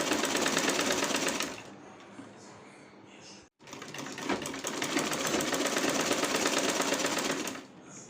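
A sewing machine stitches a loosely held sleeve onto a garment body in two loud, rapid mechanical runs. A short quiet gap separates them.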